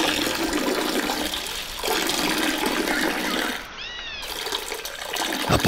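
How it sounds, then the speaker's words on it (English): Bathroom toilet flush rushes steadily for several seconds, close and loud, with a brief high tonal chirp partway through and no talk over it. "Upon completion, he finishes with a maneuver called the flush"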